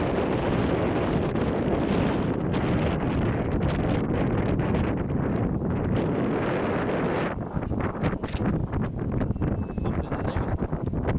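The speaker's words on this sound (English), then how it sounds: "That's a braided line in the wind, that's all." Braided fishing line on a flathead catfish trip hums and rushes in strong wind, a loud continuous roar that eases slightly near the end, with no talking.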